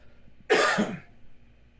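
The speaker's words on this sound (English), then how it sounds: "Smoker's cough." A single harsh, raspy smoker's cough bursts out close up, brief and rough, then quiet returns.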